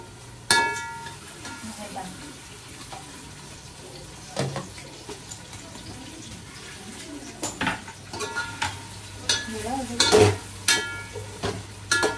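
Masala for chicken biryani frying in a pan, with soft sizzling under scattered clinks of a spoon against the pan, stirring scrapes and a few louder metallic knocks toward the end.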